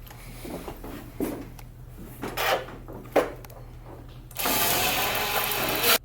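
An impact driver sinking anchor screws into an aluminum storefront door frame, bursts of rattling mechanical hammering separated by short pauses, then a long sustained loud run at the end.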